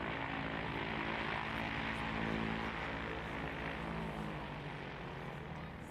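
A light propeller airplane flies during STOL competition practice in the Rocky Mountains, giving a steady, loud engine and propeller drone that holds constant throughout with no voices.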